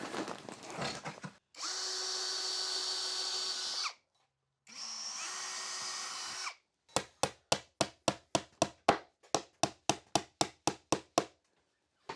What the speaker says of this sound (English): drill a hole to put a nail through there